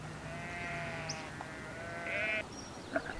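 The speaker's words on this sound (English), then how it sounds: "still maintain large herds of sheep" Sheep bleating on a monastery farm where large herds are kept, several drawn-out wavering bleats one after another at moderate distance over a steady outdoor background.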